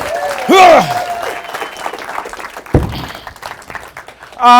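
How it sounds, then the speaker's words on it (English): Audience applause from a live crowd at a magic show, a short loud burst of clapping near the start and another at the end, with a host speaking into a microphone between them. "And a big round of applause for Zeke and Luigi."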